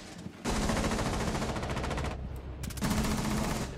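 Rapid bursts of video game gunfire rattle loudly and continuously through a close firefight, with a brief lull midway before the shooting resumes.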